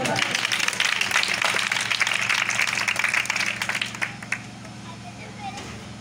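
Clapping from a church congregation at an evangelistic service, a dense, steady patter of many hands over the first four seconds before fading into quieter room sound.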